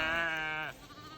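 A young single lamb on a pasture farm lets out one clear, sustained bleat that cuts off sharply, close by and loud, followed by quiet outdoor background.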